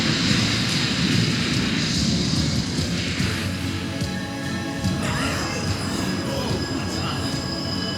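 A jet aircraft roars in a scene from the anime Patlabor 2, a loud, sustained rushing drone that shifts in pitch as it passes, with no speech.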